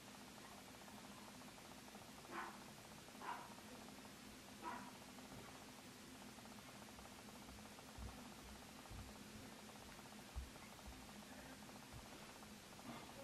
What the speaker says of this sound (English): There are a couple dogs outside my window barking.